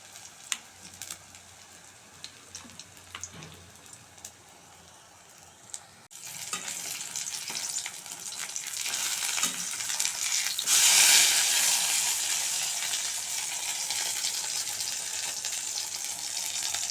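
Whole pumpkin flowers dipped in gram flour and rice flour batter fry in hot oil: a few quiet clicks and taps, then a loud, sustained sizzle that swells and stays strong, close up with no voices.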